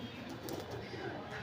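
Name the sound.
pigeon cooing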